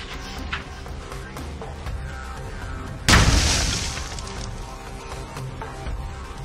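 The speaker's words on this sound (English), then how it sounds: "we got some pretty cool little explosions out of them" A single sharp bang of propellant ignited by tracer rounds fired from a rifle at an outdoor range bursts out midway and decays over about a second, surrounded by quieter background noise and faint distant pops.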